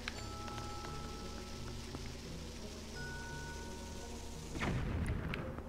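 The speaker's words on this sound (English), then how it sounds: "Can I use a bomb in here?" A single bomb explosion bursts near the end in The Legend of Zelda: Twilight Princess HD, a sudden loud boom cutting through a steady, quiet ambient game backdrop.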